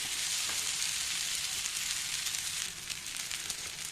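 Beetroot thalipeeth roti fries on a hot griddle with a constant crackling sizzle, a few sharper pops here and there and a slight drop in level near the end.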